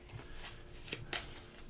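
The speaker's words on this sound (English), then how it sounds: "So just to shuffle back in." Playing cards from the Pathfinder Adventure Card Game shuffled back into a deck, a quiet close sequence of soft riffling and slapping bursts with a sharper flick near the end.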